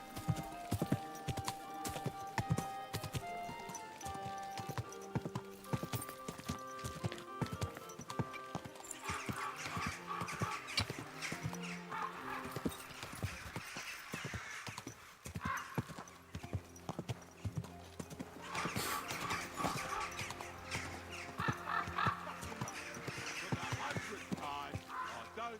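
Horse hooves clip-clop in the video game Kingdom Come Deliverance 2, a steady sharp walking rhythm running throughout, with occasional speech and music beneath.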